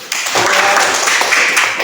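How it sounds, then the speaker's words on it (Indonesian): Classroom of Indonesian students clapping together after a lesson wraps up, a dense burst of hand claps starting abruptly and holding steady at close range for a couple of seconds. "Baik, tepuk tangan dulu"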